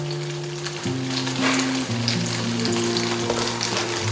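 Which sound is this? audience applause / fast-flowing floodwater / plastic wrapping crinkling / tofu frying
tofu frying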